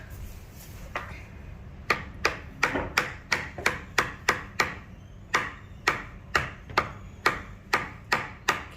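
A floor baseboard molding is hammered and pried loose with a steady run of sharp, evenly spaced hammer strikes, about a dozen and a half in quick succession, loud and close.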